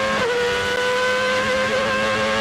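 A car engine speeds up with a loud, steady drone and climbing harmonic whine that holds throughout, close and continuous with no voices.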